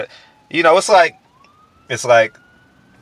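Police sirens wail faintly in the distance at an emergency scene, a thin rising tone running beneath someone talking close by.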